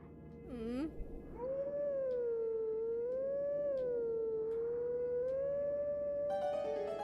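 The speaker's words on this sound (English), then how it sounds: "I'm just really bad at the howling." Wolf Link in Zelda: Twilight Princess lets out a long sustained howl that rises and falls in pitch, clear and dominant for several seconds after a brief yelp at the start.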